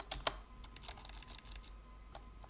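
Keys clacking on a PC105 computer keyboard during a Linux install, quick light taps in an irregular burst, fairly close but quiet, with a brief pause before a few final presses and no speech.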